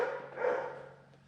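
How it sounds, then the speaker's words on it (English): A single dog barks once, a short, fairly loud woof that fades out quickly with no talk over it. "He's barking like a madman today."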